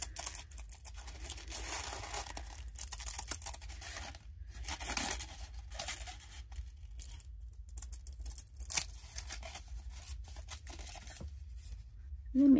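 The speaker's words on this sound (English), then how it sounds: "I'm going to use some herb shears because it makes nice thin strips." Herb shears snipping crepe paper into thin even strips, a steady run of quiet close-up cuts and crinkles with brief pauses between snips.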